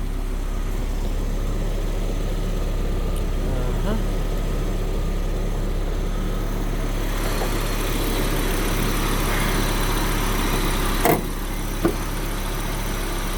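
A 2.2-liter five-cylinder turbocharged engine in an Audi S2 Avant idles steadily with a low, even hum, holding constant throughout with a couple of brief clicks near the end.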